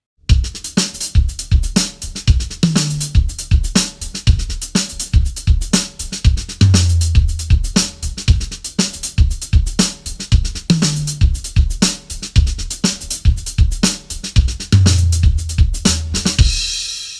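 Drum kit playing a linear groove, steady rhythmic hits with low and high tom notes recurring in a four-bar pattern, loud and close with no talking.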